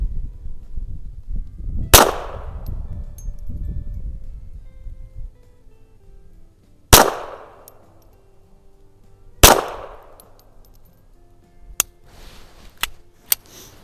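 A 1932 High Standard Model B .22 pistol fires CCI standard velocity rounds outdoors at a range, with three sharp spaced cracks followed by two or three fainter distant shots from nearby shooters, leaving quiet ringing gaps between them.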